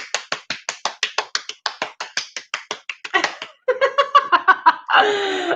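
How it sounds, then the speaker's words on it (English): Scattered clapping marks a sobriety anniversary in an online recovery group, a handful of close, distinct claps in a quick rhythm, followed by giggling and laughter, then a brief burst of noisy chatter. "So everybody give her a round of applause"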